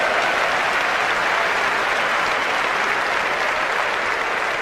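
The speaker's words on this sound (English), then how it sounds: "Give her a round of applause" A crowd at a motivational speaking event bursts into loud, dense applause that stays full and even for the whole few seconds.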